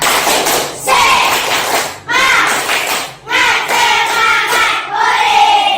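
A class of pupils performs a rhythmic 'tepuk semangat' group clapping cheer, with bursts of loud clapping in short sections separated by brief pauses and voices chanting along.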